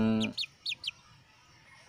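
A Basilan-breed hen and her three chicks give a few brief, faint high chirps and clucks, spaced apart with quiet in between.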